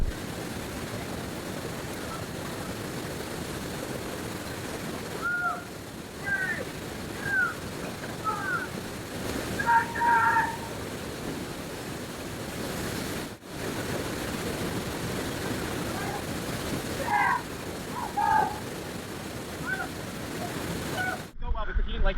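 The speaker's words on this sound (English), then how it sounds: "The water is so turbulent down there. It's like a whirlpool." Turbulent river water churns below a bridge in a ghost town as a steady broadband rush with wind buffeting the microphone, while several people talk and exclaim intermittently over it.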